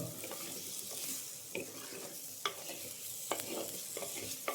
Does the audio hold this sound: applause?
no